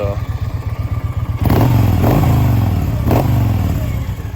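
A 2003 Victory Vegas motorcycle engine idles with a deep rumble, then revs up loudly a few times in quick bursts, close by.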